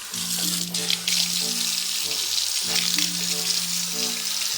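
Running water from a tap in a video game, a steady bright hiss with a low tonal hum throughout, in a toothbrushing scene; a brief break near the middle before it resumes.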